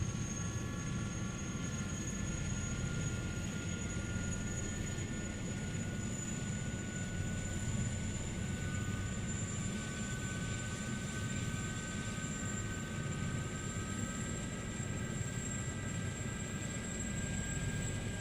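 A Gazelle helicopter's engine powers up during startup with a loud, steady turbine roar and several sustained whining tones that hold throughout, with no voices.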